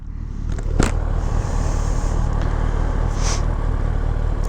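A new motorcycle ridden in first gear gives a steady, low engine drone with heavy wind noise and a few brief clatters, close and continuous throughout.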